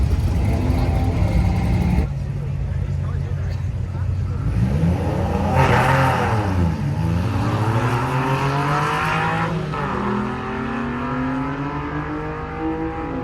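A car accelerating down a quarter-mile drag strip, its engine note rising in pitch through successive gear changes, loud and close inside the cabin with a voice talking over it.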